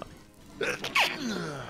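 A single sharp human sneeze bursts out near the mic, preceded by a short breath, and then a brief spoken remark follows.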